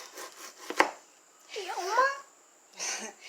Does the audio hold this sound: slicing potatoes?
yes